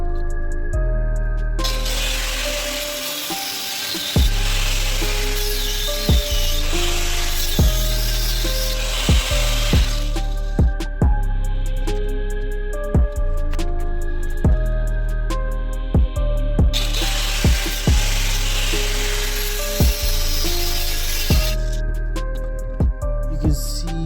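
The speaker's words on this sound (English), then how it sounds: "So I'm going to take a grinder and I'm going to cut it off." An angle grinder cuts off a ball joint on a wrecked Toyota Corolla, with two long, loud harsh grinding bursts over a steady rhythmic beat that keeps going between them.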